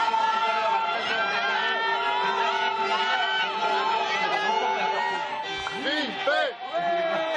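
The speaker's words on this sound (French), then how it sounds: "Toute cette foule est venue pour une chose" A big crowd of spectators at the Vendée Globe sailing race start in France, a steady loud mass of chatter and cheering voices filling the air, with a person speaking over it.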